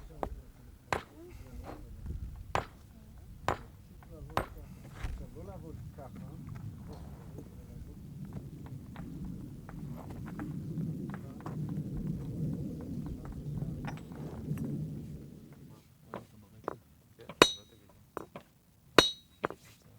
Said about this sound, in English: The nodule of flint is extracted, and the detaching of large flakes begins.